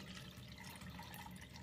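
Liquid with suspended manganese dioxide particles splashes and trickles continuously in a short, soft burst of pouring off, close by and fairly quiet.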